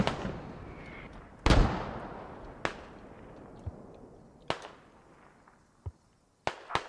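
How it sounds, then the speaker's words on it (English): Mortar barrage in the video game Squad: a heavy blast lands early, then several sharp, distant explosions crack at uneven intervals over a quiet battlefield background. "More mortars coming in."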